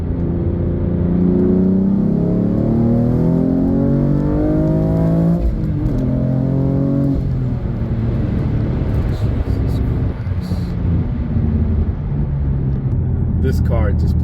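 BMW F80 M3 accelerating hard, its engine note climbing through a loud, close rising pull before an upshift, then settling into a steady roar as the car keeps driving.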